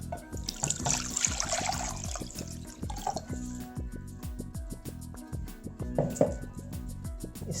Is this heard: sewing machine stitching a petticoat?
no